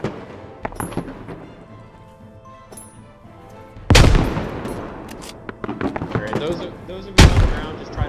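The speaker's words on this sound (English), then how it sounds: "I'm gonna throw nades on the vehicle" Grenades bursting on a vehicle in an army shooter video game, two heavy booming blasts a few seconds apart, loud and close, with scattered gunfire and clatter between them and a voice talking earlier.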